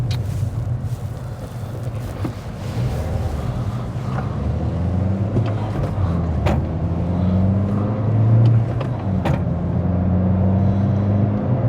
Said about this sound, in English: Gears are accelerating very nicely.